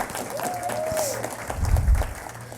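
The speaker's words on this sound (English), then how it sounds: "So give yourselves a round of applause." Applause from the audience at a student advisory council meeting, fairly soft and steady, with a brief whistle-like tone early on and some low rumble near the end.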